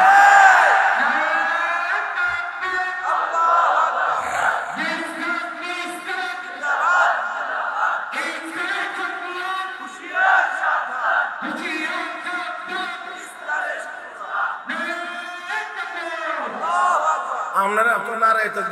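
A large crowd at an Islamic waz mahfil in Dhaka chants "Nara-e-Takbir, Allahu Akbar" in loud, repeated collective shouts, each surge of massed voices rising and falling in a steady call-and-response rhythm.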